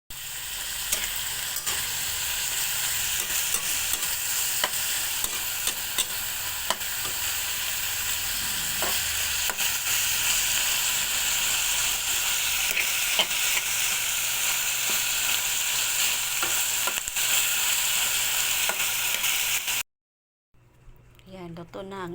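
Vegetables stir-frying in a pan, a steady close sizzle with frequent scraping and clacking of the utensil, a voice talking over it before a brief cut near the end.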